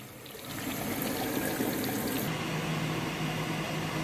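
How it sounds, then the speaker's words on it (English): Tepid tap water runs steadily while degummed silk waste is rinsed under it, a close, continuous pouring and splashing wash of sound with no talk. "Rinsing it in tepid water to remove the washing soda and the soap"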